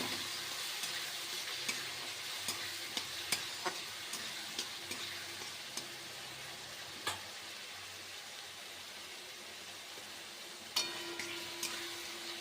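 Turmeric, chili powder and other ground spices sautéing in a pan, a soft steady sizzle with occasional light ticks and clinks of stirring against the metal, fairly quiet and without talk.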